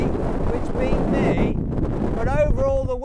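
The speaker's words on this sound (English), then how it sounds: "I hope you can hear me because it's blooming windy." Strong wind buffets the microphone with a heavy, continuous low rumble while a person talks underneath it.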